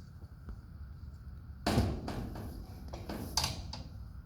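Spring-assisted door on a 2004 Calico six-horse trailer swings shut with a loud metallic clank, followed by several lighter rattles and knocks against quiet background.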